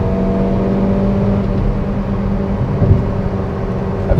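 A JAC J5 car accelerating on a highway, heard as a steady loud engine drone with a tonal whine and road rumble, rising slightly in a few short surges, with no voices.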